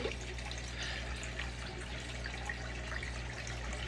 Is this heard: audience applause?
no